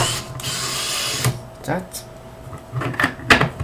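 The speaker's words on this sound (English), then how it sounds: "so now we're gonna take a screw, put it in, and screw it in." A screw is driven by hand into a homemade solder fume filter built from random parts, with short scraping and clicking bursts of tool contact and a brief spoken word over a low steady hum.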